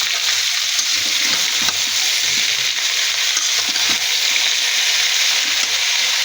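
Boiled gourd leaves hit hot oil with garlic and onion, setting off a loud, dense, unbroken sizzle that stays close for the whole stretch. Low stirring knocks sound underneath, with no speech.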